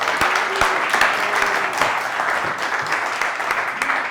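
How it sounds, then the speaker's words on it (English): An audience at a business talk on AI gives a steady round of applause for a guest speaker, dense clapping that holds evenly throughout. "Go ahead and give him a big round of applause, guys"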